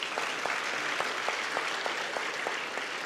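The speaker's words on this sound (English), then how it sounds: "give me an applause, please." Applause at an awards ceremony in Tamil Nadu, steady and moderately loud with a regular rhythm of sharper claps running through it and no talk heard.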